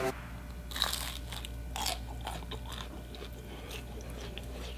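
Crisp crunching bites of an air-fried Salvadoran pupusa, several sharp crunches spaced a second or so apart, close up with chewing between them.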